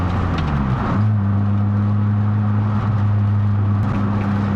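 A 2007 Lotus Exige S engine holds a steady, droning low hum from inside the cabin while driving, with mild road and wind noise over it and no talk.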